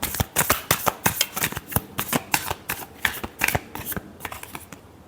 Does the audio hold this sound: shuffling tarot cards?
yes